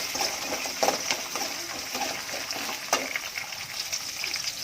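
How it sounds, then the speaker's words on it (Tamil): Small onions sizzling and crackling as they sauté in a pan, a steady close frying hiss with occasional stirring clicks, no talk. "சின்ன வெங்காயம் வச்சு வச்சுக்கணும் நூறு கிராம் வதக்கி வச்சுக்கிறேன் நல்லா வதக்கணும்"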